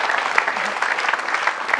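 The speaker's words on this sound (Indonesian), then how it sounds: "Tepuk tangan buat Bianca dulu." An audience claps for a guest named Bianca, a brisk, lively round of applause with dense overlapping claps heard up close for the whole stretch.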